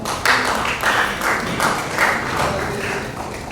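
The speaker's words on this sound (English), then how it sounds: "A round of applause for her." An audience at a cup draw ceremony applauds, a dense, steady patter of many hands clapping at close range, swelling slightly at moments and running without pause.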